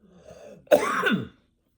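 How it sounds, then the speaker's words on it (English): A single short, throaty cough rasps out close by after a faint murmur, then silence. "Coughing a little bit, but not as bad as usual."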